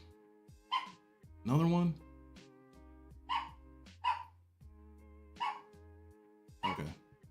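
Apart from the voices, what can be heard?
dog barking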